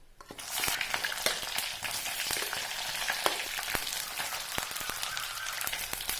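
Sliced shallots and curry leaves sautéing in a pan for village-style dry fish gravy, a constant crackling sizzle that swells as they go in, with frequent scattered pops and ladle scrapes, close and without talk.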